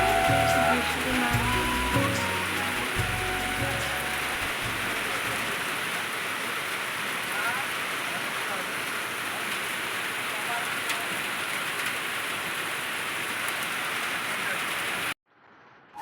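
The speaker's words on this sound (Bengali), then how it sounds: "বৃষ্টি খুব জোরে হচ্ছিল" Heavy rain pours down steadily in a dense, close hiss on surfaces. Some low rumbling and a brief voice come early, and the downpour runs unbroken until it cuts off abruptly near the end.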